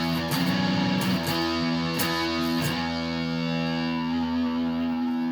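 Electric guitar with overdrive, sustained distorted chords and picked notes with a buzzing, saturated tone, played close and steady without talk.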